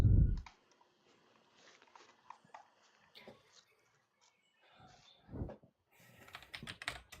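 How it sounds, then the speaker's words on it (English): Keys clatter on a computer keyboard in bursts of quick taps, fairly close and quiet, with pauses between runs and a brief low thump at the start. "I'm typing."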